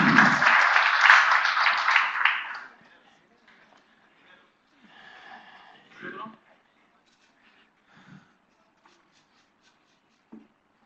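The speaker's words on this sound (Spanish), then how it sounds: "Le damos un aplauso a Oscar" A short burst of clapping from a seminar audience for about two seconds, fading out, followed by quiet room sounds and a few faint murmurs.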